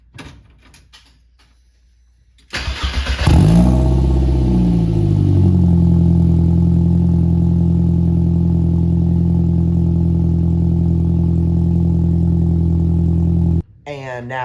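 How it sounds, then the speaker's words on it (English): Cold start of a 1.8T engine in a MK1 Rabbit Pickup with stock exhaust: a starter crank, then a loud rising rev that settles into a steady, droning idle before a clunk near the end. "So first off, I'll give you guys a cold start of it right here."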